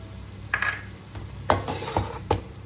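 Vegetables and chili sauce stirred in a hot pan, with a few distinct scraping strokes of a utensil against the metal over a soft background sizzle.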